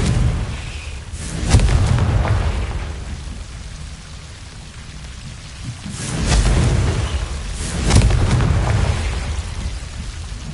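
Confringo blasting spell in the wizarding game Hogwarts Legacy, heard as several booming explosive bursts with rumbling tails over a rain-like ambient hiss.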